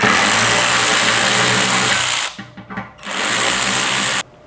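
Power tool backing out 10mm bumper screws on a Nissan Xterra, a loud steady whir running continuously with a short stuttering pause midway before resuming and then stopping abruptly.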